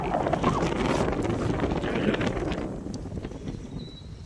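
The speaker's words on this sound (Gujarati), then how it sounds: "થોડું પવન અહીં જોરદાર આવે" Strong wind rushes and buffets the microphone with a steady roar that eases slightly toward the end.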